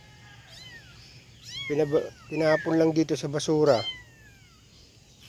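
Tiny, thin abandoned kittens left in a trash bin meow in a quick cluster of high, rising cries, close and loud, while a person talks nearby.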